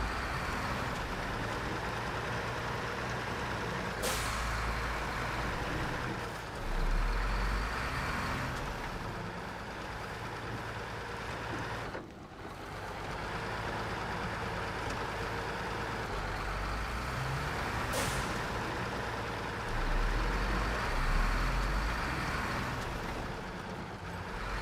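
A heavy truck drives in the Snowrunner video game, its engine a steady low rumble under a broad wash of noise, swelling and dipping at moderate volume.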